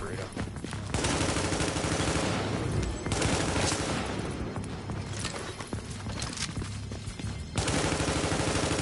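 Gunfire in The Division during a survival mode match, sustained rattling bursts of automatic fire in a noisy, loud battle soundscape with brief lulls, with speech mixed in.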